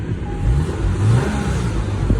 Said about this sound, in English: This is a before clip of the exhaust.